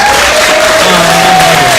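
An audience at an evening panel discussion applauds, a thick continuous patter of hand claps with steady tones humming through the room beneath it.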